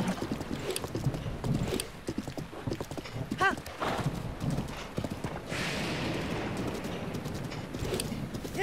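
Horse hooves from The Legend of Zelda: Breath of the Wild clip-clop in a steady trotting rhythm while someone talks over them, with a brief horse snort partway through.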